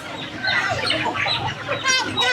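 Chickens at a busy animal market cluck and squawk in short bursts while a person talks over them, with market bustle behind.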